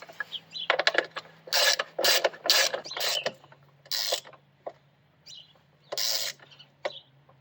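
Parts of a Coleman B200RSV trailer's suspension being bolted back together during a shock relocation, with repeated metallic ratcheting bursts and clinks separated by short pauses, close and clear.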